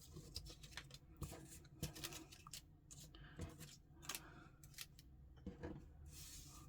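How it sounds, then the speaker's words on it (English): Scissors snip through paper while cutting out faux stamps, a close, quiet run of repeated crisp cuts and rustles in an irregular rhythm. "Some faux stamps there, so I'll cut those out"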